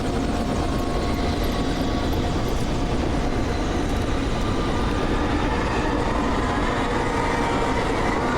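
A loud, continuous helicopter rotor and engine roar in the video game Alan Wake Remastered, dense and unbroken throughout with no talk.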